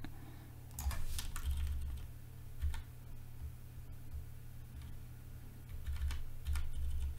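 Computer keyboard keystrokes while editing in Photoshop CC 2017, close and moderately loud, in several short bursts of typing clicks separated by pauses, with a steady low hum underneath.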